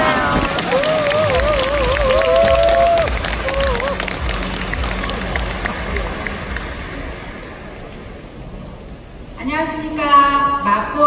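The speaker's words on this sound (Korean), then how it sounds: "박수로 환영해 주세요" An audience at a network-marketing success academy lecture hall in Seoul applauds to welcome a speaker, sustained crowd clapping and cheering filling most of the stretch before a voice returns at the end.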